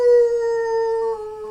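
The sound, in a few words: player imitating a howl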